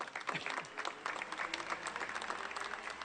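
Steady applause from a gathered crowd at a community event, dense continuous clapping lasting throughout at moderate distance.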